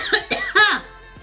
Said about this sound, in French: Attention, je vais tousser